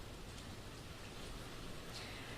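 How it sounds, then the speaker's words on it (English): Steady rain whipped by rising wind during Tropical Storm Hermine in New Bern, Craven County, North Carolina, a dense, unbroken roar of falling water and gusts filling the whole stretch, with no voices. "the wind is starting to pick up, and it continues to rain"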